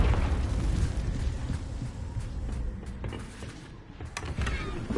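A Confringo spell explosion in Hogwarts Legacy fills the scene with a loud, sustained rumbling burst that rolls on for several seconds, with sharper crackles near the end and no voices.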